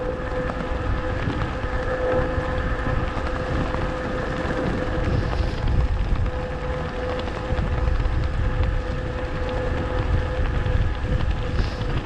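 Wind rushes steadily past a cyclist on a 26-mile New Year's Day road ride in Pine Mountain, Georgia, a broad continuous roar with gusty swells, loud and close throughout, alone without speech.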